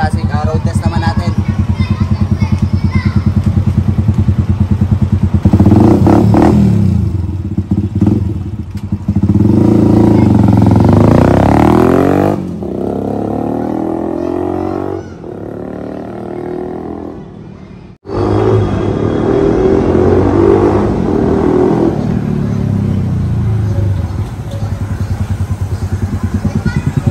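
A Honda TMX 125 Alpha scrambler motorcycle rides on a road test, its engine droning and rising through the gears with gusting wind buffeting, passing close and loud, with a brief dip and cut midway.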